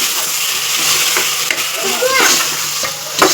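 Tomatoes, potatoes and mixed vegetables fry and sizzle in a pan while being stirred, with steady close crackling, a few scraping strokes and light clinks throughout.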